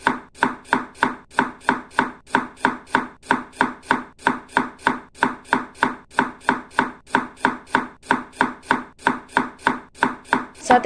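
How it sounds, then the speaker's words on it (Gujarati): Green chillies and coriander are chopped with a knife on a board: a long, brisk, evenly spaced run of crisp thuds, loud and close, with no voices. "લીલા મરચાં પણ સમારી લઈશું સાથે"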